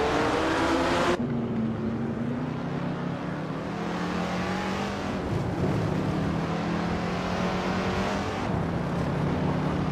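A 1969 Dodge Charger Daytona engine drones in a racing video game, a steady mid-pitched hum with a rising rev and gear shift near the start, then holding at a sustained cruising pitch throughout.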